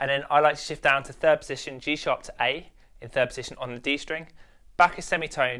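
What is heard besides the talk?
No distinct noise like a dog, phone or traffic.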